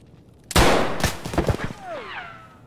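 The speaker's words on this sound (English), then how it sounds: "I've got a revolver shotgun. I've got an MTS 255." An MTS-255 revolver shotgun in Escape From Tarkov fires a loud, close blast, then a couple more sharp reports follow, with a ringing metallic tail as the sound fades.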